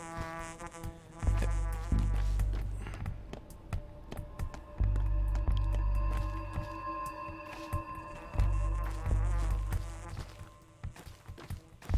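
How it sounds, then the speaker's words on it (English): An insect buzzes in the video game Pathologic 2, a thin droning whine that comes and goes over a low, pulsing ambient score with scattered taps. "I thought I heard buzzing."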